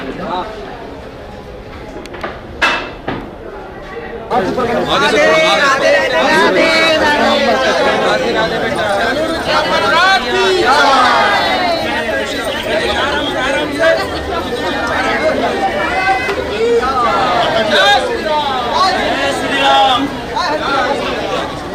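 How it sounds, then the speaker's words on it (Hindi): A large, dense crowd at a fair keeps up steady, loud overlapping chatter and babble, with a few sharp knocks at the start before the din swells and holds. "पूरा मेला देखूं इतनी भीड़ नहीं।"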